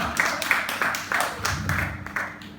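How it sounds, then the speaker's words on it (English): A small group gives a round of applause, a few bursts of clapping in quick succession, close and moderately loud, with some voices mixed in. "Round of applause."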